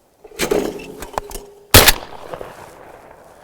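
Shotgun blasts at clay targets outdoors, two loud close reports with a short echo tail, separated by about a second and a half.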